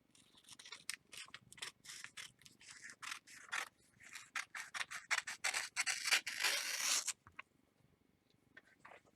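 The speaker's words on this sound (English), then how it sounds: "I'm just going to trim it off with scissors" Rapid rhythmic snipping of scissors cutting through paper, many quick crisp cuts in a row, close and clear, then fading to quiet.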